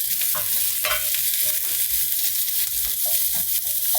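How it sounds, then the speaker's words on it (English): Carrots sautéing in oil in a pan for a vegetable side dish, a steady sizzle with intermittent scraping and stirring clatter as they are moved around, close and continuous with no talk. "I'm gonna move the carrots around the pan so they get nice and coated with the oil"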